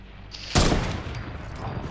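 Video-game gunfire breaks out in a sudden loud burst of shots, with sharp close cracks that ring out and trail off into a rumbling tail.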